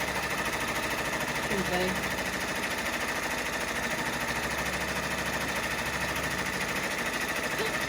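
An embroidery machine stitches an in-the-hoop teddy through fairly thick layers of fabric, a fast, steady mechanical chatter that runs throughout, with a few quiet spoken words over it.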